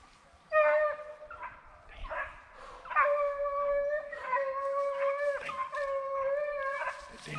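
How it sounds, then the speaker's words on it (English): A hound dog howls during a dog drive outdoors, a series of long, drawn-out wavering howls with a few yips, fairly loud and close, with no talk over it. "Oh, that's the dog. That's the dog."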